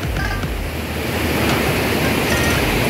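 Aras waterfall in Turkey, reached by a steep climb: a loud, steady rush of falling water fills the scene, a constant broadband roar with no voices.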